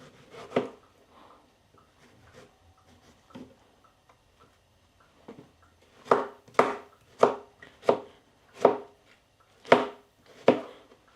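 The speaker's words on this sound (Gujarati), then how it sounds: "આપણે અહીંયા ટમેટાની શરૂઆત કરી દઈએ કાપવાની ઝીણા ઝીણા" A knife finely chops tomatoes for pav bhaji. A few scattered cuts come first, then a steady run of about nine crisp, evenly spaced knocks on the board, close and clear in a quiet kitchen.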